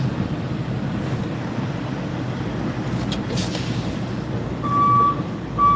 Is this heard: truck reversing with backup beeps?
yes